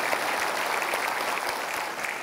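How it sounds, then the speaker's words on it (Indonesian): A studio audience at an Indonesian television talk show gives the guests a loud, dense round of clapping that holds steady throughout, with no voices over it. "kita berikan aplaus sekali lagi untuk tamu-tamu kita yang luar biasa"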